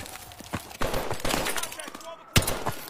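Gunfire from the Brave Soldiers war video game: several sharp shots and short bursts crack through a dense, noisy battle mix, with voices talking over the shooting.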